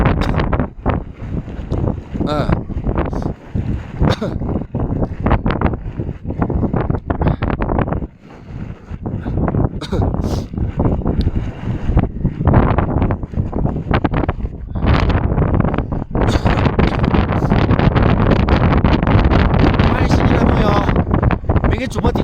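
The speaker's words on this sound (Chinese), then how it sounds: "风很大啊" Strong, cold wind on a high-altitude plateau near a geyser field in Shigatse, Tibet, buffets the microphone in loud, gusty roars that build toward the end, while someone talks over it.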